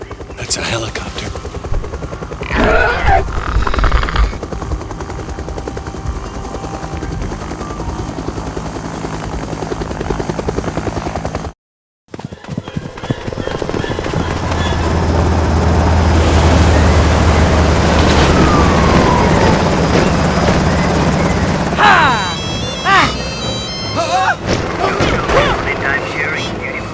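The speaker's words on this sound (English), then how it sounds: "That's a helicopter." A helicopter in the LEGO Jurassic World video game roars loudly with a rumbling rotor drone, cut by a brief silence and joined by booming game effects and bursts of character dialogue.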